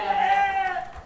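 A sheep on a goat farm, with Dorper sheep mentioned nearby, gives a single wavering bleat, close and fairly loud, lasting about a second.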